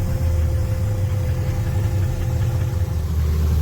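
A Saab Safir light aircraft's newly refurbished piston engine runs at a constant speed, limited to 1500 RPM while taxiing, a steady droning hum with a low throb throughout and no speech.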